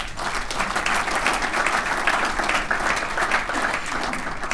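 Steady round of applause from an audience at a Torrance Area Chamber of Commerce State of the State address, dense and even clapping filling the room throughout without a break.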